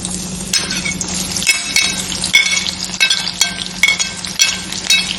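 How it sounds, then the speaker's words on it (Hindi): Kofte frying in mustard oil in a kadhai over a low flame, a loud close sizzle broken by repeated metallic clinks and scrapes of a spoon stirring against the pan. "उसके बाद इसे फ्राई करिए।"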